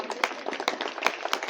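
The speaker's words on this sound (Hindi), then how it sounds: "जोरदार ताली।" Loud applause at a mindfulness meditation workshop, a brief burst of many hands clapping with crisp overlapping slaps.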